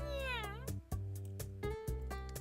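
A black cat in the video game Dandelion: Wishes Brought to You gives a short, rising-and-falling meow at the start, heard over soft background music.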